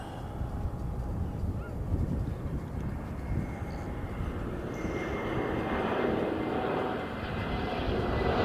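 An airliner coming in to land, arriving from Auckland, passes with a sustained broad engine roar that grows slightly louder toward the end.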